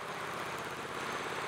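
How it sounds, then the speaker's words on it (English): A 2017 Triumph Street Twin motorcycle with its stock exhaust runs at a steady, even hum, close and continuous without any speech. "The exhaust sounds great on this though."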